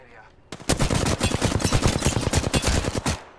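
Loud, rapid automatic gunfire in the video game Apex Legends, an unbroken stream of closely spaced shots lasting about three seconds after a short quiet start.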